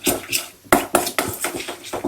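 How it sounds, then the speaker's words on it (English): Miso is mixed into pasta in a pan, with a utensil scraping and clanking against the metal in a series of close, uneven strokes, some soft and some sharp. "now we mix this together"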